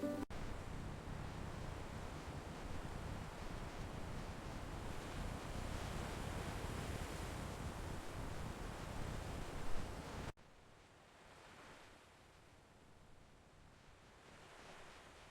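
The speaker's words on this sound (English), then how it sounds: "The sea is always restless." Restless sea waves form a steady, dense surf roar that fills the first ten seconds, then drops abruptly to a quieter, softer wash of water for the rest.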